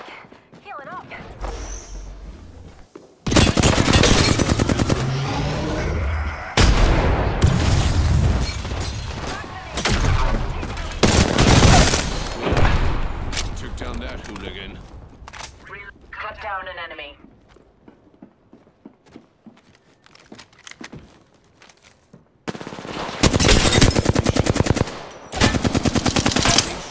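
Gunfire in the video game Apex Legends comes in loud, dense automatic bursts broken by short gaps, with a quieter stretch of lighter shots midway, close and punchy, while a voice speaks over parts of it.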